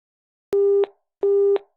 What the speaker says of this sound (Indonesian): Telepon dimatikan sepihak.